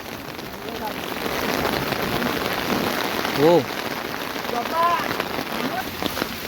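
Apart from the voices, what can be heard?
rain falling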